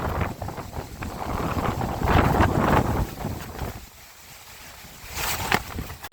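Hurricane Fiona's wind gusts hard outdoors, roaring and buffeting the microphone, then easing for a moment before surging back up, with no talking.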